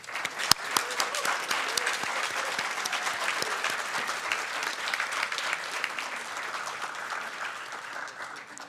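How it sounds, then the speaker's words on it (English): Attendees at a transit board of directors meeting applaud the Employees of the Year, a moderately quiet, even patter of clapping from a modest room that tapers slightly toward the end. "Can we have another round of applause for both of our Employees of the Year?"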